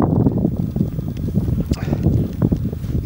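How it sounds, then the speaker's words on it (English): Steady wind buffeting a microphone outdoors in Urho Kekkonen National Park, Finland, a low constant rumble with gusty swells and a faint lapping of water underneath. "A bit windy, but"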